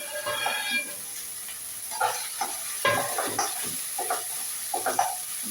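Pre-fried vegetables tossed in a pan and stirred with noodles, giving intermittent scraping stir clatters over a soft steady sizzle, close and fairly quiet, no talk.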